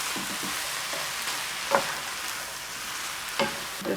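Tomatoes stirred into a quinoa salad mixture in a hot pan, a soft steady sizzle with occasional scrape and tap of a utensil against the pan, faint and close, no voices.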